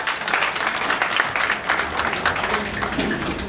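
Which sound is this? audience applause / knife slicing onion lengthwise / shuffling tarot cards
audience applause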